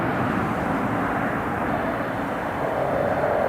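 An Emirates airliner takes off into a strong headwind at Newcastle International Airport, a loud, steady jet roar that holds throughout with no voices.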